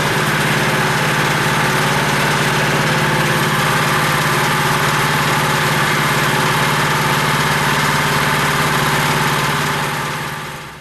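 An air-cooled minibike engine idles loudly and steadily close by, its even rhythmic putter continuing alone before cutting off at the very end.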